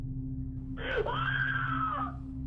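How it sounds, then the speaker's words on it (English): A woman lets out one sustained, piercing scream from a reality TV show recording, a rising wail held for over a second above a low steady hum. "contend the scream was merely a sound effect"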